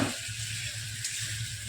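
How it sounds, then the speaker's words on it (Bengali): Potato pieces fry in hot oil in a pan for Bengali aloo dum, giving a short, steady, soft sizzle with no one talking. "আলু ভাজা চলছে"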